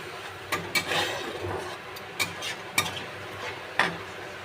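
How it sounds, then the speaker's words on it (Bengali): A spoon stirs spiced gravy with a splash of water in a pan, giving soft scraping strokes with several sharp clinks against the metal over a low sizzle. "দিয়ে মশলাটা দিয়ে একটু ভালো করে নেড়ে চেড়ে খালি নেব।"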